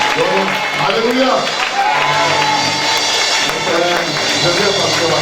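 A church congregation at a Sunday service applauding, cheering and whooping together, a steady loud wash of clapping and shouts with voices calling out over it.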